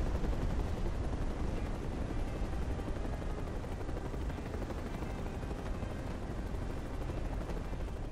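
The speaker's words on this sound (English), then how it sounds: "fire enough missiles into its center until the building is destroyed" Missiles fired from a helicopter blast a building apart in Mercenaries 2, a dense, continuous roar of explosions and rumble under steady rotor noise, loud and unbroken throughout.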